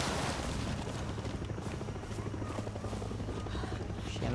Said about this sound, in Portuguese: O helicóptero ali de novo.